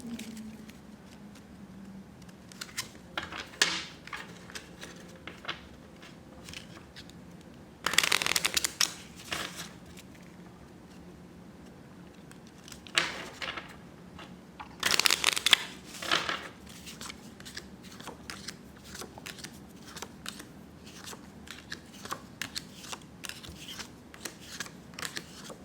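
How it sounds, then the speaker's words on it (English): Tarot cards shuffled by hand in two quick riffling bursts, separated by softer card handling and light tapping, close and crisp in a quiet room with no talking. "So we are going to shuffle for the second time."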